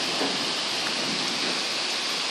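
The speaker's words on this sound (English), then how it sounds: "Hear that? That's heavy thunderstorms." Steady, dense rain from a heavy thunderstorm pours with a constant loud hiss and no pauses.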